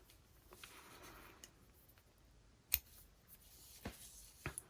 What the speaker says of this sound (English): just snip our black one for now